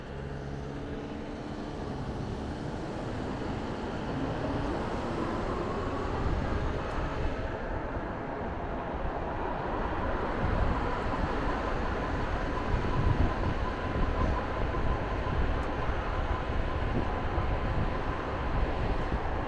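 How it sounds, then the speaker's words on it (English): A Toronto subway train rumbles along at York Mills Station, a low steady roar of wheels on rails that grows louder and rougher as it moves through the station. "here's York Mills Station, so this would be subway station number 4"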